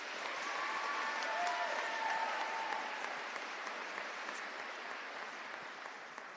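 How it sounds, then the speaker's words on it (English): Graduation ceremony audience applauding the graduates' speeches, a soft, continuous wash of clapping that gradually fades, heard at a distance and fairly faint. "Can we give them all another round of applause?"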